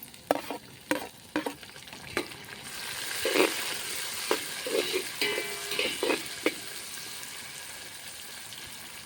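Masala with tomato frying in a pan on a Khandeshi wood-fired clay stove for khichdi, a continuous sizzle broken by sharp stirring clinks and scrapes, close and alone.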